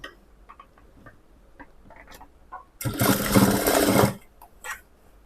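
A sewing machine runs steadily for about a second, stitching lining cloth and blouse fabric together, loud and close, with light handling clicks and taps before and after.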